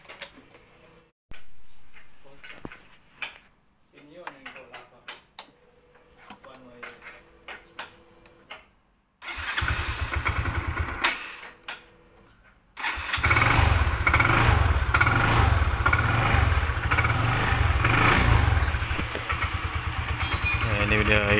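A Yamaha Xeon RC motorcycle with an ignition fault first gives faint clicks and cranking attempts, then the engine catches and runs loudly, rising into steady revving with a throbbing low pulse, close by.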